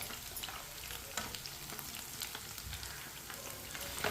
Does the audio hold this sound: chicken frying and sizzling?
yes